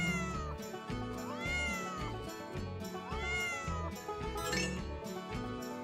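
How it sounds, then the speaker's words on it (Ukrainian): A cat meows twice, each a rising and falling wail, set against light background music. "Це кіт"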